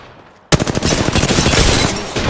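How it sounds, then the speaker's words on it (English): Rapid automatic gunfire from Apex Legends erupts after a brief quiet, a dense, loud burst of shots firing continuously to the end. "I'm taking shots. Opening fire."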